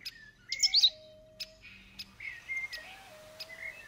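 A small, annoying pet bird chirps in the fantasy adventure game The Book of Unwritten Tales, with several quick high tweets and short calls scattered across a few seconds, fairly close and alone without talk.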